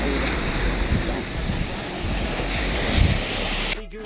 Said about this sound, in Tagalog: medyo maganda-ganda na ng dagat, hindi katulad kahapon na talagang may alon